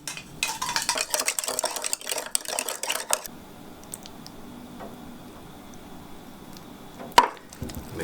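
A sugar and salt mixture with rice vinegar for sushi is stirred by hand, producing quick close clinks and scraping taps for about three seconds, then quiet room tone and one sharp knock near the end.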